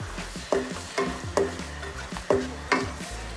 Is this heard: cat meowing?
no